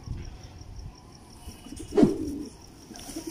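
Teddy pigeons coo softly in a quiet setting, one brief low throaty coo standing out over faint background noise.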